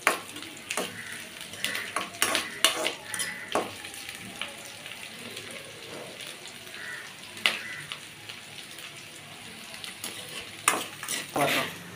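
Dried red chilies and garlic sautéing in oil in a pan, a steady close sizzle and crackle with scraping stirs of a utensil throughout.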